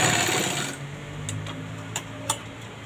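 A sewing machine double-stitches a folded blouse edge, with a short continuous run at first, then quieter mechanical ticks and a few light clicks.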